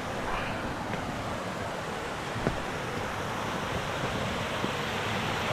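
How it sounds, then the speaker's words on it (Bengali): Chitrakote waterfall near Jagdalpur, water flowing in a steady, broad rushing wash heard from a distance, constant and moderately quiet with no voices. "জল এখান থেকেও বয়ে চলেছে"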